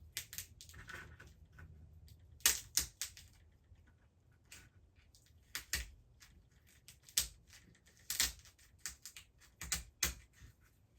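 Sharp crunching snips of scissors cutting up the middle of a crab's underside shell, used as fishing bait, come in irregular bursts over a quiet background, close and distinct.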